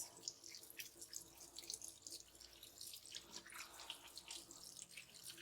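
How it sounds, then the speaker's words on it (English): Hot water runs steadily from a kitchen faucet into the sink for hand washing after handling butter and oil, a constant close splashing hiss with small drip-like flickers and no talk. "I'm going to hit some hot water so we can melt through some of that butter and oil in my hands"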